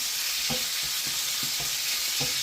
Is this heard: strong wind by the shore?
no